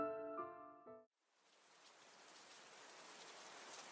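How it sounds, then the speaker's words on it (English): Heavy rain falling, a steady hiss of drops on surfaces that starts after a short musical tone and then builds softly and evenly, heard alone without talk. "It was raining pretty hard, and it was chilly outside."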